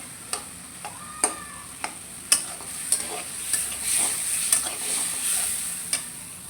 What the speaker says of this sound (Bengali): এখন আমার টমেটোটা ভাজা হয়ে গেছে এখন উঠায় নিব